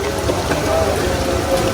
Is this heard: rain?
yes